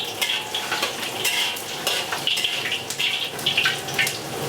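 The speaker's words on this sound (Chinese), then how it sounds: "姜蒜下锅" Ginger and garlic fry in a hot wok, crackling and sizzling close up while a utensil stirs and scrapes in short, repeated bursts.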